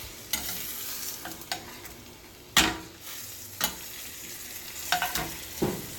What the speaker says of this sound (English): I'm gonna let this simmer, let this cook